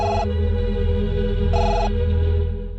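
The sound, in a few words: telephone ringing in a movie scene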